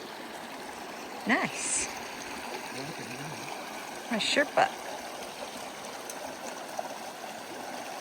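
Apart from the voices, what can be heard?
mountain stream water flowing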